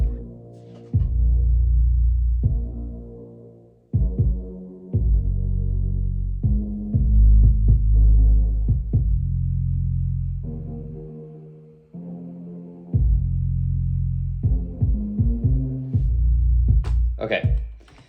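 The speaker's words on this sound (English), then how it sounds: "I'm going to play the bass line and the kick from my song" A kick drum and bass line from a self-made song play on their own, deep low-end notes pulsing in repeated phrases with short gaps, loud and close, ending with a few sharper hits.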